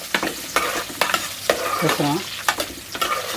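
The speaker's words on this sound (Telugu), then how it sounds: "ఉల్లిపాయలు వీటిని అయితే ఇక మంచిగా ఫ్రై చేసుకుంటున్నాను" Sliced onions fry and are stirred in a pan, a steady close sizzle broken by regular scraping strokes of the spoon, fairly loud and without talk.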